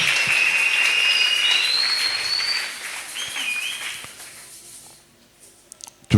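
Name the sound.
congregation applauding and cheering the Lord at a wedding blessing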